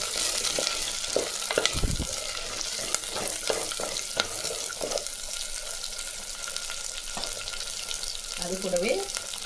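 Shallots and curry leaves fry in hot oil for a shallot-and-garlic kuzhambu, giving a steady broadband sizzle with scattered crackles and a few stirring knocks, plus a brief murmur near the end.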